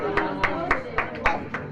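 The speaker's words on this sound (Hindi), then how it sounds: "आप इनके सम्मान में एक बार जोरदार ताली बजाकर स्वागत करें" Sharp claps from an audience welcoming a Jain family at a religious gathering with Sudha Sagar Ji Maharaj, sounding as a steady series of about seven evenly spaced, moderately loud hand claps in under two seconds.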